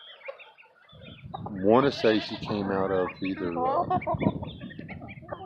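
A bantam cross hen, sired by a little game bantam, clucks in short bursts close by while a person talks over her.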